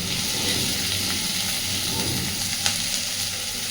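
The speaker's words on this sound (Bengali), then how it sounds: "জাস্ট হালকা একটু চিংড়ি মাছটাকে ভেজে নেব।" Prawns fry lightly in oil with a loud, continuous sizzle and faint bubbling crackle, close up, broken once by a brief sharp tick of a utensil, with no voices.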